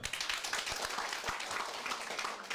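Brief burst of audience applause at a Ukrainian comedy show performance, a dense, moderately faint patter of many hands clapping steadily for a couple of seconds with no talk over it.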